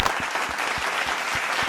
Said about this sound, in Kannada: ಬಲ್ಲಿ ಜೋರಾದ ಚಪ್ಪಾಳೆ.